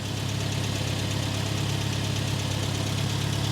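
A Renault Caravelle engine, running again after twenty years off the road, holds a steady, close, rumbling idle with a faint knocking vibration throughout.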